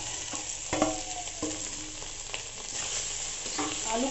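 Potatoes fry in a pan with garam masala for aloo patties, with a steady close sizzle broken by several clacking stirs of a spoon against the pan.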